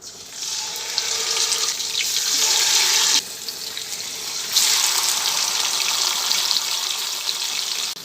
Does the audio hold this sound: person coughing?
no